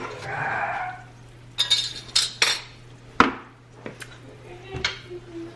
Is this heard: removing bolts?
no